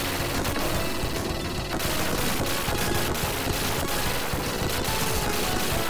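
Force fire weapon in the Sega game Gunstar Heroes blasts in rapid continuous bursts, a loud crackling barrage of game explosions and shots that barely lets up.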